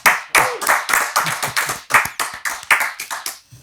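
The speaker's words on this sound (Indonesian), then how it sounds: "Tepuk tangan buat Ibu Yenti Garnasi." A studio audience on a talk show applauds an arriving guest with brisk, loud, close clapping in uneven bursts that tail off near the end.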